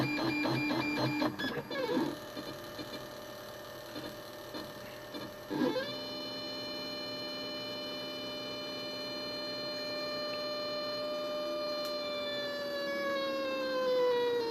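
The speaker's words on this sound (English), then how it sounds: "this is PLA that I'm printing right now. It's Hatchbox PLA." A 3D printer without a part cooling fan prints Hatchbox PLA, its stepper motors whining in steady tonal hums that shift pitch as moves change, faint and continuous.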